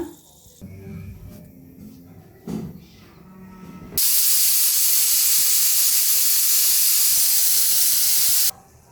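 A kitchen pressure cooker, in use while cooking field beans and potatoes for curry, releases steam through its whistle as a loud, steady hiss lasting about four seconds, following quieter kitchen clatter.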